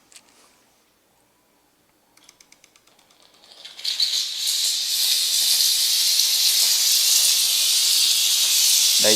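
After a few faint ticking clicks, a loud, steady hiss of steam bursts out of a Flgocexs steam cleaner and continues without pause, close to the microphone.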